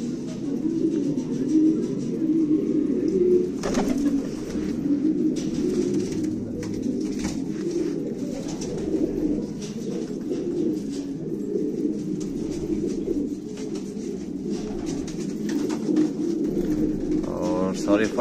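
A flock of 45 large-bodied fighter pigeons coos continuously and close by in a loft in Quetta, steady overlapping throaty calls forming a dense bed with occasional wing or movement noises.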